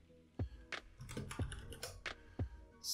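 Typing on a computer keyboard: a short burst of crisp, close key presses in an irregular rhythm, with a few heavier thumps among lighter taps, no voices.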